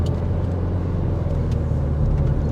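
A car drives through Droushia village in the Akamas area of Cyprus, heard from inside as a steady loud engine and road rumble that continues without a break.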